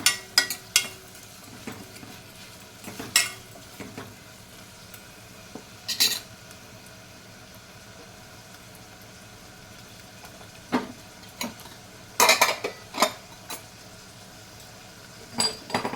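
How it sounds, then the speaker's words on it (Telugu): A utensil stirs onions, green chilies, ginger garlic paste and curry leaves in a pan, giving scattered scraping clinks and short metallic knocks between quiet gaps, close and fairly faint. "కొంచెం కరివేపాకు, కొంచెం కొత్తిమీర వేసుకొని మొత్తం కలియబెట్టుకోవాలి"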